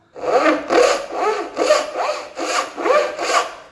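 A hand saw makes a thin vertical cut through thin wood for a small wooden box in seven steady, rhythmic back-and-forth strokes, close and clear with no talking.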